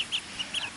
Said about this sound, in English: This little duck that's somewhat trying to come over here is an Ancona duck.